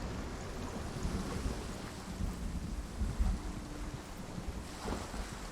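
Steady rain with low rumbling thunder in the rainy dark world of Hellblade: Senua's Sacrifice, a continuous wash of falling water and deep rolling rumble throughout with no voices.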